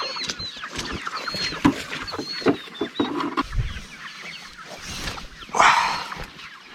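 Pasture-raised chickens cluck and chirp near an electric fence outdoors, with scattered short calls and soft rustling, plus a louder squawk toward the end.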